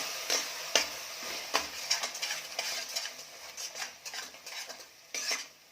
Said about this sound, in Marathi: खोबऱ्याची पेस्ट करून घेतलेली म्हणजे खोबरं वाटून घेतलेलं आहे ते घालायचं आहे आणि छान मिक्स करून घ्यायचं